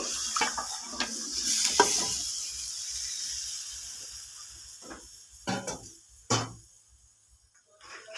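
Milk-based shukto poured into a pan of spices, producing a loud hissing sizzle that fades, followed by a few sharp stirring scrapes and knocks.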